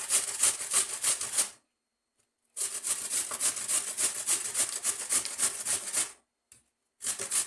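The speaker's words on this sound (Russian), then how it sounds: "И натираю на крупной терке." Raw beetroot is rubbed on a coarse grater in fast, rhythmic rasping strokes, close and crisp, in two long bursts and a short third one separated by silent pauses.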